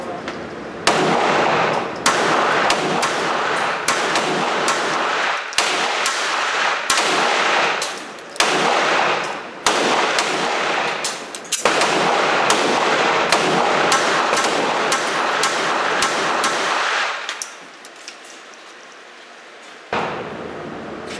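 Ruger LCP II pistol firing steel-cased ammunition at a range: a rapid series of sharp, loud gunshots with brief gaps between strings, near and dominant, quieting toward the end.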